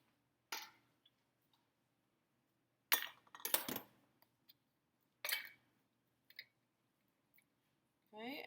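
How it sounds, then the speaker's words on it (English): A metal lid twists onto a glass jar of dill pickles in a quiet kitchen, giving a few sparse clicks and short scraping grinds separated by silence. "take your lid, screw it down nice and tight"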